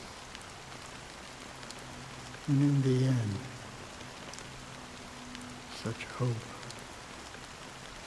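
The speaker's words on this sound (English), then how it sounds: "It's been raining for decades?" Steady rain hisses across the whole span in Penacony from the Honkai Star Rail 2.2 update, a constant wash of falling water beneath brief spoken lines and a couple of short, louder tones.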